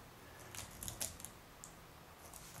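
Quiet, light key clicks from typing on a Dell Adamo XPS laptop keyboard, a few scattered taps clustered in the first second and then sparse, soft and close with no talk.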